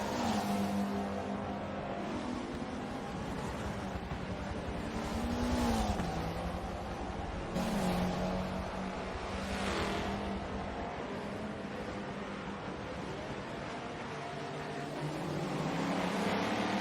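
Touring cars and prototype race cars tear around a track in a racing video game, a steady drone of engines rising and falling as cars pass by, fairly quiet and continuous.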